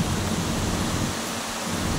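Strong, steady rush of typhoon wind and heavy rain, a dense continuous roar with low gusty rumbling underneath.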